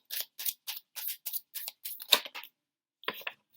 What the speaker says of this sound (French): on me demande de prendre une carte là